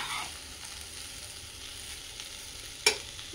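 Cooked rice tossed and stirred in a pan for lemon rice, a soft, steady scraping and faint frying hiss with one sharp utensil clink near the end.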